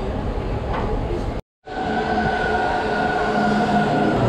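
Amsterdam subway train running with a steady rumble and whine, briefly cut out, then continuing with a sustained tonal hum close by.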